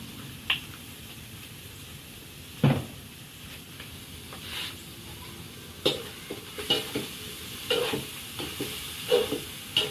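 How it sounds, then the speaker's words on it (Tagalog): Shrimp paste (bagoong alamang) cooking in oil, a steady sizzle broken by spoon scrapes and clinks against the pan, with several sharper stirring knocks toward the end. "Dadagdagan po natin na ng mantika at ng maluto."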